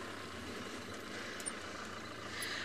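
A safari vehicle engine idles outdoors, a steady low rumble that holds level and unbroken throughout, close by and moderately loud.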